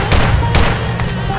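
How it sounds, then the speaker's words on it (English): A bomb-drop explosion in the military game Project Reality rolls out as a loud, deep rumbling boom with a few sharp blasts inside it, close and continuous for its whole length. "Bomb drop coming in."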